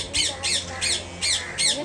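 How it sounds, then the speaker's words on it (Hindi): A parrot squawks repeatedly at a cat, five shrill, harsh calls in a steady rhythm, loud and close over a constant background hum. "तोता जो है टी टी कर रहा है बिल्ली को देखकर"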